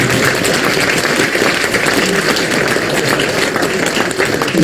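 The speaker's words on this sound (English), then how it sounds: "Please give him a big round of applause." An audience at a gathering claps steadily and densely, a sustained loud wash of applause with no pauses throughout.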